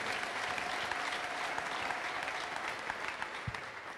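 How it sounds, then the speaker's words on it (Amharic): A church congregation applauds the Lord with a steady, dense roar of many clapping hands, held evenly throughout and heard at some distance with a slight room echo. "ለጌታ ክብር አጨብጭቡለት።"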